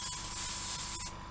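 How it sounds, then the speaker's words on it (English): A Fengda FE-180K airbrush sprays paint onto paper, giving a steady fine hiss of air with faint hum underneath that cuts off abruptly near the end. "If you pull the airbrush back a bit, come away, seems like it's atomising quite nicely"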